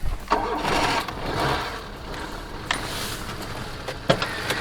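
A ZAZ 1102 Tavria car engine cranks and catches, then runs at a rough idle with a few sharp clicks and knocks nearby.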